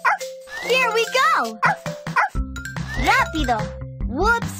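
Animated high-pitched yips and barks from a cartoon puppy in the Dora the Explorer game Groom the Room, bouncy electronic game music and chimes around them, lively and up close.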